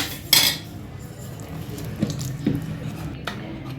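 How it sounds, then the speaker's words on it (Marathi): Utensils clink and scrape against a metal pressure cooker as soft cooked vegetables for pav bhaji are pressed and mashed, with a sharp clatter near the start. "आता थोडंसं ह्याला मॅश करून घेऊया।"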